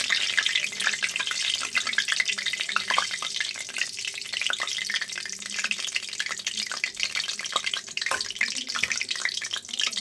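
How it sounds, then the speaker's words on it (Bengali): Semolina and potato snacks fry in hot oil, giving a dense, continuous crackling sizzle that stays loud and close throughout, with occasional sharper pops. "বাকিগুলো আমি এইভাবে ভেজে নেব।"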